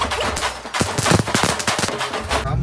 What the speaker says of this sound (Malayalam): എൻ്റെ ഫേവറേറ്റ് പടക്കമാണ് തോക്ക്